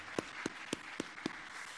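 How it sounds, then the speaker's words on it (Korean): Five evenly spaced single hand claps at a church service, distinct and fairly faint against a quiet background, in a slow steady rhythm. "우리 박수하겠습니다."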